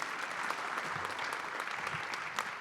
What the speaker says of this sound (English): Let's give us great applause for Everett and the Minister